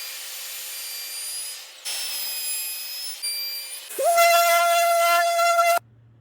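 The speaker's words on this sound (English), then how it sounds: "we've now sanded 120 grit on the top and the sides" A power sander works the edges of MDF board with 120 grit paper, giving a steady whirring drone that shifts pitch in a few stages, grows louder and higher for a stretch, then cuts off suddenly.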